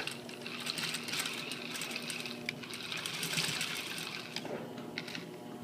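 A sewing machine tacking the corner of a zipper fly, a close, continuous rattling run of fast needle strokes with slight surges, no voices over it.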